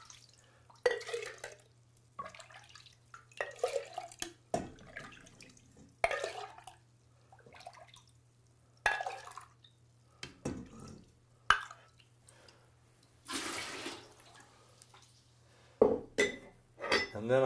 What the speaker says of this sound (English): So I'm going to take off about a half gallon of whey.